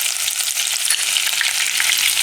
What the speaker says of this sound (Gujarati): તેલ આપણું ગરમ થઈ ગયું છે તો તેલમાં પહેલાં આપણે નાખશું લસણ ગેસ ધીમો કરી દઈશું લીલા મરચાં નાખશું